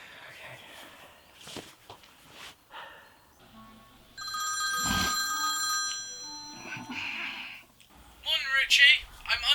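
A telephone rings on an outgoing call in a flatmate comedy scene, with a repeated electronic ringing tone sounding through the middle of the clip amid quieter room noises before and after.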